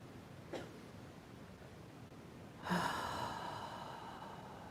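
Someone breathes in quietly during a group breathing practice at a Sunday gathering, then lets out a longer, soft airy exhale. The breath is faint against low room noise.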